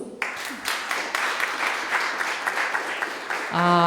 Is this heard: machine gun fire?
no